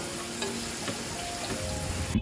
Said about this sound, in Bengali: এখন মাছ রান্না করার জন্য আমি পেঁয়াজের ভিতরে দিয়ে দিলাম রসুন আর জিরা